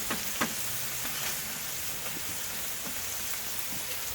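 Seventeen smashburger sliders sizzle on a Blackstone griddle, a dense, steady frying hiss with scattered small taps and spatula scrapes throughout, close and continuous with no voices.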